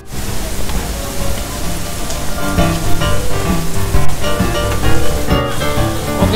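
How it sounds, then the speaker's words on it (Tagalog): Heavy rain pours down steadily, a loud, dense wash of drops that holds throughout without pause. "Grabe, lakas ng ulan."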